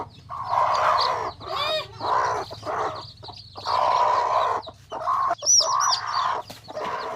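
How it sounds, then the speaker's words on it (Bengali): Several hens and chicks clucking and squawking close by in irregular bursts, with a few higher peeping calls mixed in, no voices. "দেখো তোমরা, আমার কতগুলো মুরগির ছানা বেড়েছে। দেখো দুটো মুরগি।"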